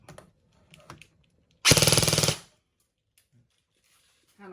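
An E&C 642 airsoft gun fires a short full-auto burst, a rapid even rattle of about a dozen shots lasting under a second, loud and close, with quiet handling noises before and after.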